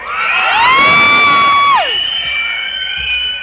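A loud crowd cheers and shouts, with a shrill whistle-like tone rising over the roar before dropping away as the cheering carries on.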